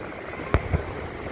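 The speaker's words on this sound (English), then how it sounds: "So that way you can guys see the fireworks really clearly." Fireworks bursting over Long Beach, NY: two distinct booms about a fifth of a second apart, moderately loud against a steady outdoor background, with no voices.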